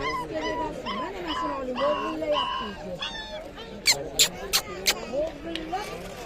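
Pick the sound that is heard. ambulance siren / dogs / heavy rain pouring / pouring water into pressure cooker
dogs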